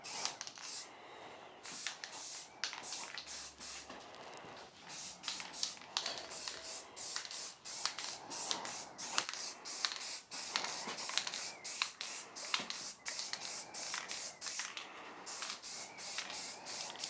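Satin black top coat sprayed onto a refurbished Mini Cooper front subframe: close, rapid bursts of aerosol hiss, one after another in a steady, nearly unbroken rhythm with only brief gaps.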